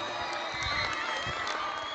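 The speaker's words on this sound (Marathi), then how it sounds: "जोरदार टाळ्या." Crowd at an outdoor kabaddi mega final in Virar, a steady wash of clapping and cheering with scattered shouts and children's voices, loud and continuous for two seconds.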